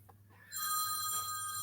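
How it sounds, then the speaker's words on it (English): A telephone rings loudly and steadily after a quiet start, its bright electronic tone sustained to the end during a live talk show. "She got her phone ringing."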